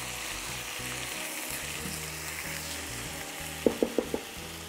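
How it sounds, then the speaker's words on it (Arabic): Chicken frying with spices in a pan sizzles steadily while a utensil stirs, ending in a few sharp taps of the spoon against the pan. "وأقلب مع المكونات هذه كلها. هستمر بالتقليب لغاية ما يصير لون الدجاج أبيض"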